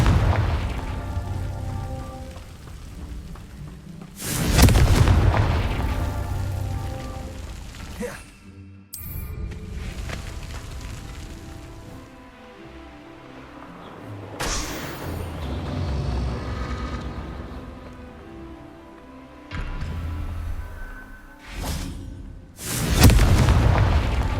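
Confringo blasting-curse explosions in Hogwarts Legacy, several loud booming blasts spaced a few seconds apart with rumbling decay between them, over a game soundscape.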